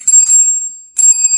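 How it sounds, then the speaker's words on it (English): A bell rung by a trained dog on command, two bright metallic dings about a second apart, close and clear with no talk over them. "Yes, go ring the bell."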